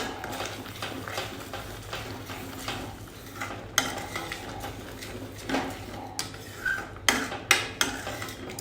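A spoon stirs palak paneer with ghee in a pressure cooker pot, clinking and scraping against the metal in irregular strokes over a soft background sizzle.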